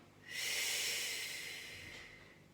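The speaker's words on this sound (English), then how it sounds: "Take a breath in. Exhale." A single long, breathy exhale through the nose or mouth during a stretching routine: close, airy and steady, rising quickly and then slowly tapering off over about two seconds.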